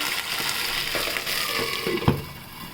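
Green peas fry in a pan with mustard seeds and cumin, giving a steady close sizzle with light stirring scrapes and a brief knock near the end, with no talking.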